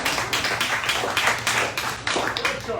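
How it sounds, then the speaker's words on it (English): An audience at a summer closing party claps, with steady, dense applause close by throughout and a faint voice underneath. "That's an applause line."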